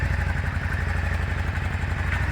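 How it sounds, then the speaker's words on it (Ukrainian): A Yamaha Drag Star 400 cruiser motorcycle idles steadily nearby after carburetor servicing, its V-twin engine giving a low, even, throbbing rumble with rapid regular pulses and no talk over it. "Працює як часи, як справжній драгстар."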